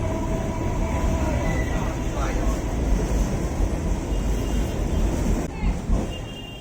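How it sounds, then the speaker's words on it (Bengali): A train rumbles past right beside a Jagannath temple in Khidirpur, a steady broadband roar and rattle that stays loud and close for the whole stretch, with faint voices under it. "এই মন্দিরেরই পাশ দিয়ে ট্রেন যাচ্ছে।"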